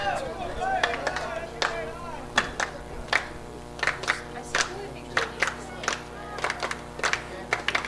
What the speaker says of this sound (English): Got the Neshannock crowd here and their players clapping up their guy